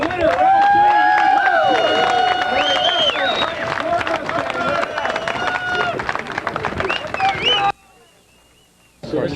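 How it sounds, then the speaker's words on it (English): Crowd noise fills a race podium celebration, with loud, continuous cheering and clapping under voices, then dropping sharply near the end. "A round of applause for your winner."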